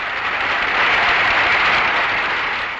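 Stadium crowd applauding, a steady roaring wash of many hands clapping that swells slightly in the middle and holds for a few seconds.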